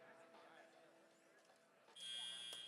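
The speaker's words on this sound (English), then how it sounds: "Right in under the buzzer." A match-period buzzer at a First Tech Challenge robotics qualification match sounds as a loud, steady electronic tone that cuts in sharply after a stretch of commentary and arena noise, then holds to the end.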